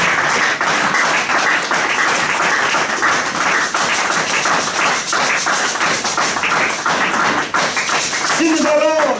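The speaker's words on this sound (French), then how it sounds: "Nous acclamons très fort le Seigneur." A church congregation claps and applauds in steady, rhythmic beats, loud and close, with voices mixed in beneath the clapping throughout.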